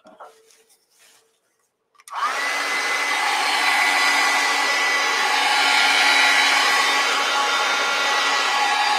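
A hair dryer starts up after a few faint taps and blows steadily and loudly at close range, drying acrylic paint on a winter landscape canvas, a constant whooshing hum with no talking.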